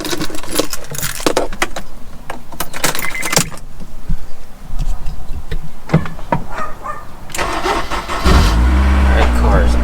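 A Honda S2000 is started in neutral. Keys jangle and handling clatter come first, then the engine catches and settles into a steady, loud idle at the end. Voices can be heard in the background.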